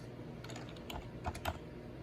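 A short burst of typing on a computer keyboard sounds faint and close, with a few sharper key clicks standing out among quieter taps.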